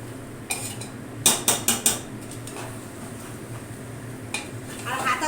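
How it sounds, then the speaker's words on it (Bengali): A metal ladle stirs potatoes and fat in a little oil inside a pressure cooker, giving a quick run of four sharp clinks and scrapes against the pot over a low, steady sizzle, with a softer clank later. "আর হাতা দিয়ে আমি নাড়ছি কেন বলো তো?"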